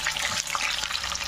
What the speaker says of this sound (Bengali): এগুলো চিকেনগুলো ভাজা হচ্ছে।